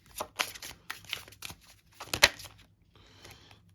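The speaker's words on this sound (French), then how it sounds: "on va descendre juste une dernière carte" Tarot cards riffled and handled from a deck: a series of soft, papery flicks and shuffles with one sharper snap, close and quiet, fading to a faint rustle.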